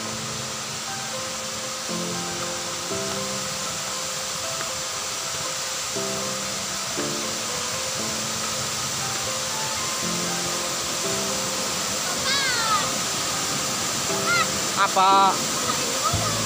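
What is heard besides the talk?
waterfall, Laliako waterfall in West Sinjai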